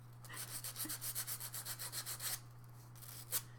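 Sandpaper scrubs over carved styrofoam in quick back-and-forth strokes, about a dozen rhythmic rasps close to the microphone, then a pause and a couple more strokes over a faint steady hum.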